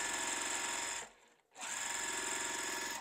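A sewing machine stitches quilt block pieces in a steady, loud whirring run, stops for about half a second, then carries on just as before.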